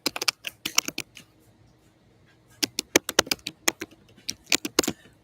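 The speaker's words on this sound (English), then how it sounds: "Typing." Quick bursts of typing on a computer keyboard, crisp clacking keystrokes close to the microphone, with a pause in the middle before a faster flurry resumes.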